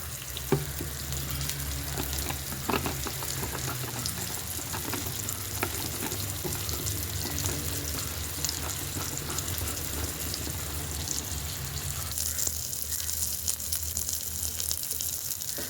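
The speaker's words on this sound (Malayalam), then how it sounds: "ബാക്കി കറി വയ്ക്കാൻ തിരണ്ടി മീൻ പൊരിക്കാൻ വെച്ചിരിക്കുകയാണ്" Pieces of stingray (therandi) fish fry in a pan with a continuous dense sizzle and spatter, steady and close throughout, with occasional sharper crackles and no talking.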